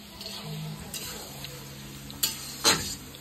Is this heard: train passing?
no